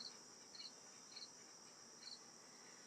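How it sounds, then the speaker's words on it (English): Crickets chirp outdoors in a quiet natural setting, with short high trills repeating at an uneven rhythm over a faint, steady background hiss. "The crickets crackle."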